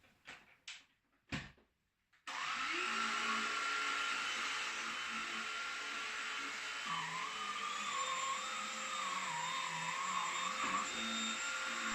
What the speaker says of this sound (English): Another quick demonstration of how to go from an upright vacuum cleaner to the handheld vacuum cleaner